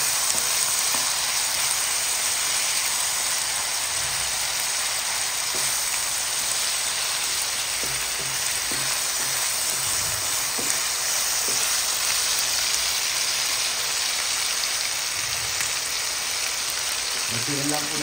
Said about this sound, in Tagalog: I-prito lang natin siya para maluto.